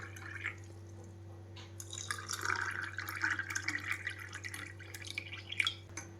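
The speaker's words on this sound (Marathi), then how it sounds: "वरतून असं हे थंड पाणी ओतून घेतलेले." Cold water poured into a glass of raw mango panha, a soft trickling and dripping over a faint steady hum.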